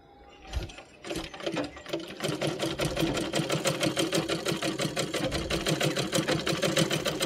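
Sewing machine under repair for skipped stitches, stitching fabric in a fast, steady mechanical rhythm after a few handling clunks, loud and close throughout with no talk.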